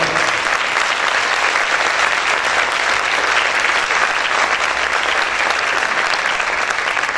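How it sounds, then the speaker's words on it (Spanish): A church congregation claps loudly and steadily for the Lord, a dense, sustained wash of applause that holds at full strength throughout. "¿Cuántos pueden aplaudir fuerte al Señor?"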